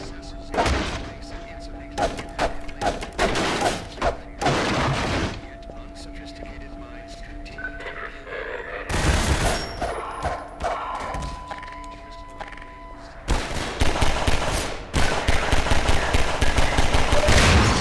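MP7 gunfire in Half-Life 2 rings out in sharp bursts of rapid shots, loud and close, separated by quieter gaps, with the last few seconds holding a sustained volley; a voice talks in between.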